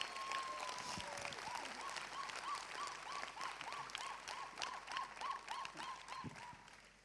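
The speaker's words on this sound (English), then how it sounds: "I think Shamla needs a big applause for that" A hall audience claps continuously in a dense, steady round of applause, fairly distant, while a repeating warbling electronic tone chirps along underneath for several seconds.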